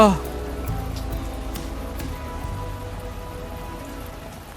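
Rain pouring steadily with a dense hiss, starting with a louder hit and continuing under faint background tones.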